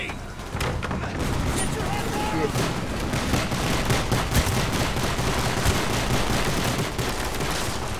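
Pistol fire in Call of Duty: Black Ops, a dense continuous clatter of rapid shots and battle noise that stays loud throughout, with speech mixed in.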